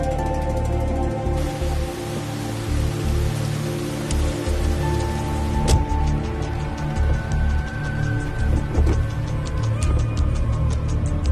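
Steady rain falls at night, pattering on surfaces with irregular drips and ticks, a continuous moderately loud wash throughout with no voices.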